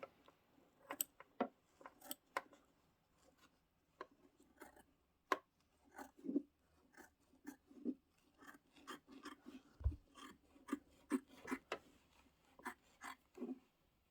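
Double curved snips cut sewing stitches on a Kimberbell witch hat pillow project, giving a series of quiet, crisp snipping clicks at irregular intervals, close by and faint, with no voices.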